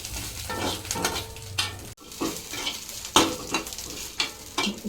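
Gongura leaves and tomato fry in a pan, giving a steady sizzle broken by scraping stirs and occasional utensil knocks, close and fairly quiet.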